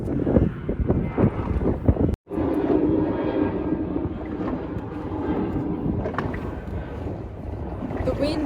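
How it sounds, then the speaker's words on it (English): Strong wind of about 16 knots roars across the microphone at a fishing spot, a loud, steady rushing blast with one brief dropout, while someone talks over it. "The wind is picking up dramatically. It's probably blowing about 16 knots now."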